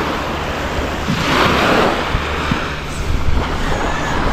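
Sea waves wash against the shore in a continuous surging hiss that swells briefly, with gusts of wind buffeting the microphone and no speech.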